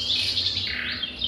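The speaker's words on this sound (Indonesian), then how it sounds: "Trotol jantan F4 usia 3 bulan" A three-month-old male trotol songbird gives a short burst of bright, high chirps and tweets, close and clear over faint background hum.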